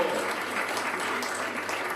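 A brief, even burst of audience clapping fills a gathering at a Bharatiya Janata Party office, moderately loud and continuous without pauses.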